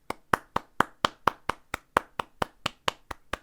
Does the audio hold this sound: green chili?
no